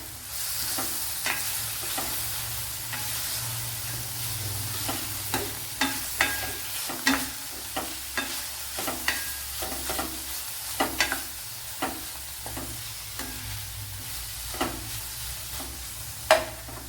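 Garlic and ginger sizzle in a pan for Kerala-style okra, a steady frying hiss broken by a regular rhythm of spoon scrapes and stirring clacks, close and clear with no talk.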